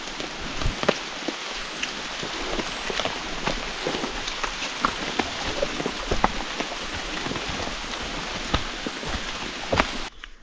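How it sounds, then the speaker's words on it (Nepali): Light rain falls in an upland forest as a steady, close patter of drops, with scattered sharper taps from drips landing on nearby surfaces. "अहिले चाहिँ पानी परिरहेको छ अलिअलि है।"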